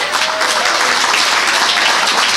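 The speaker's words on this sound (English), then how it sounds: "I know you're clapping, and I appreciate that" Steady, dense applause from an audience at a Maryland Republican Party spring convention, many hands clapping at once in a loud, even wash with no pauses, close and continuous throughout.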